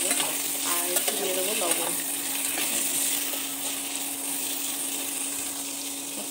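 Pumpkin and fish frying in a pan, a soft continuous sizzle with a few scraping stirs of a utensil early on, close and steady with no talking.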